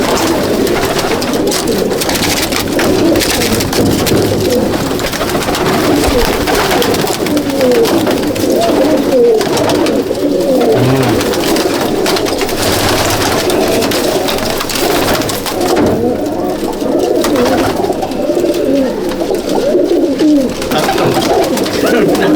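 Many pigeons coo continuously and close by in a pigeon loft, their overlapping soft, throaty calls forming a dense, steady chorus.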